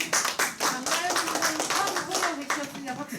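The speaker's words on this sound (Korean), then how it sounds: "拍手してください" Church congregation clapping for a first-time interpreter at a Japanese-Korean church service in Cambridge, steady close applause with voices talking over it throughout.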